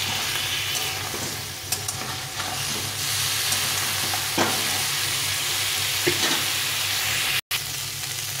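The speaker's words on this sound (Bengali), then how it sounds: "এই আলু আর কপিটা ভেজে রেখেছিলাম, এটা একটু দিয়ে একটু নেড়ে চেড়ে নেব" Fried potato and cauliflower tossed in a cooked-down spice masala in a pan give off a loud, continuous sizzle with scraping stir strokes, close up and with no talking.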